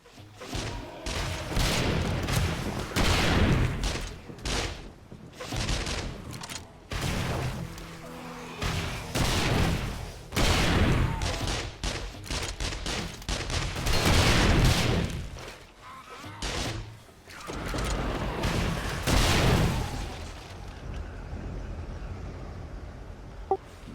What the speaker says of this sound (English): Shooting rockets is fun.